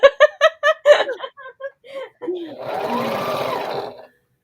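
A sewing machine stitches a quilt in a steady continuous whir, coming in after a burst of chatter and laughter from two women and running alone toward the end.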